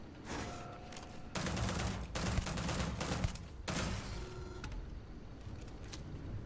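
Gunfire from a cheap early-game weapon in the video game Starfield, several quick bursts of shots standing out against quieter game ambience, fairly faint overall.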